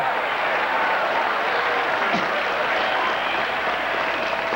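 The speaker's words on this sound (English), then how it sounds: "the cheers, of course, for their favorites, you can hear are resounding in the background" A cold outdoor crowd of spectators applauds and cheers for their favourites, a dense steady wash of clapping and cheering that stays level throughout.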